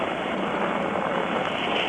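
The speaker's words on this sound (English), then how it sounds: "The giant stack of the Saturn Apollo, 363 feet of gleaming white equipment being pushed up through the blue skies of Florida by the force of the first stage engines" The Saturn V first stage engines thunder during the Apollo 11 liftoff in Florida, a steady broadband roar heard at a distance, loud and unbroken.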